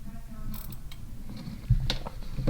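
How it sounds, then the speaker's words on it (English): Mechanical wristwatch being wound by hand, its crown turned clockwise, producing faint, close ratcheting clicks and gear creaks over a soft background hiss. "You can also hear the watch wind."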